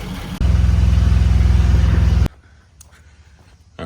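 A 1949 Ford Shoebox car engine runs loud and close with a steady, pulsing rumble for about two seconds as the car drives off, then cuts away to quiet background.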